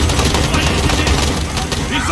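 Dense rapid gunfire in a Modern Warfare campaign scene, a continuous loud chatter of shots with no break.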